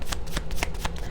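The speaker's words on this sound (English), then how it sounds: "Let's get some spirit cards out here." Spirit oracle cards shuffled by hand in a brief, close flurry of papery riffling slaps.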